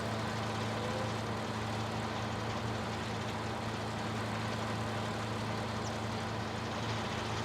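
A Massey tractor engine drones at a steady low idle in Farming Simulator 19, an unchanging mechanical hum with no voices over it.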